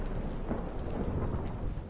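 A thunderstorm at sea aboard a boat in a video game, heard as a steady, fairly quiet wash of rain and low rumbling that fills the whole moment without a break and with no voices over it.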